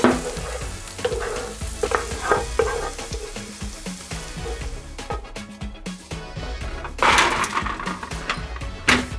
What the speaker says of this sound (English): we're just going to take a little bit of the Moet and Chandon Brut, and we are going to deglaze the pan just a little bit